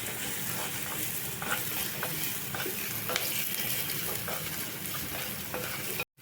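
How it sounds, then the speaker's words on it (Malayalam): Chopped tomatoes frying in a pan and being stirred for a tangy Kerala curry, a steady sizzle with scraping spoon strokes at regular intervals, at moderate level, ending abruptly. "തക്കാളിയും ചേർത്ത് നന്നായിട്ട് ഇളക്കി കൊടുക്കണം അല്ലെങ്കിൽ കരിഞ്ഞു പോവും"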